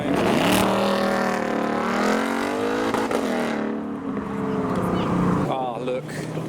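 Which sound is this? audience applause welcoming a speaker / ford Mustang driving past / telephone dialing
ford Mustang driving past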